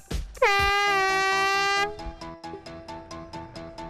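A loud air horn blasts once for about a second and a half to start a scrap-built painting machine challenge, then machinery clatters in a steady rhythm.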